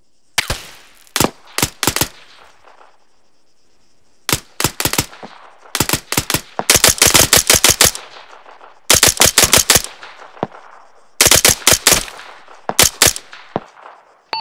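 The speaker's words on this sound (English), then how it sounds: "Oh, someone is shooting at us." Bursts of rapid automatic gunfire in an online shooter game, loud repeated volleys of shots separated by short pauses, with no talking.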